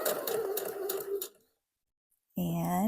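A sewing machine runs steadily for about a second and a half while stitching along a drawn line on wrap dress fabric, then stops. Silence follows before a voice begins.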